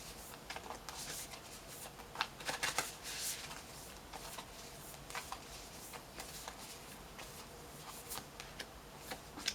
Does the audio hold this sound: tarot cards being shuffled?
yes